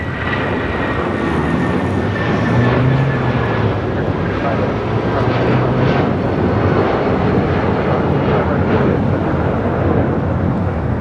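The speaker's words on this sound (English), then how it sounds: "a United 777 heading on down for a south side departure" A United Boeing 777 at LAX roars loudly as it departs on the south side, its jet noise broad and sustained throughout.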